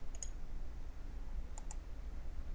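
Two quick double mouse clicks from a right-click during CAD work in Autodesk Inventor 2015, crisp and close, over a low steady room hum.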